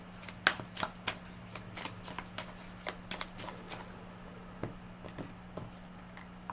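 Tarot cards are shuffled by hand for a reading, giving a quick, close run of soft riffling snaps and flicks in uneven bursts with no one speaking.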